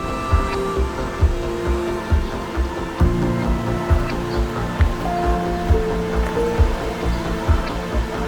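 Rushing water of a river at an inland resort in Davao City, Philippines, a continuous churning wash with rhythmic surges, close and fairly loud, with no voices.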